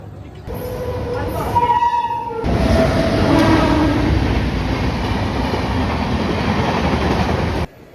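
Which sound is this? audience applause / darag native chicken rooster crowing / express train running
express train running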